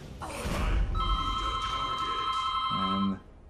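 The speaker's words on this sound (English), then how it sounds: "Apparently the phone is ringing." A telephone rings with a steady electronic tone held for about two seconds, then drops to a lower buzzing pulse near the end, clear and close.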